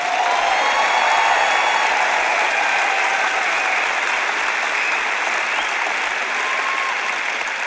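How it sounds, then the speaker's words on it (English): Sustained applause from a church congregation, thick continuous clapping from many hands that holds steady and fairly loud from start to finish, with faint crowd murmur underneath. "if you're going to clap, don't patty cake."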